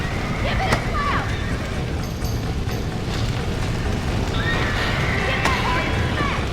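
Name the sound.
horse neighing in a video game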